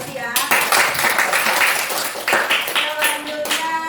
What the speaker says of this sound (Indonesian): Tepuk tangan untuk Chelsea ya.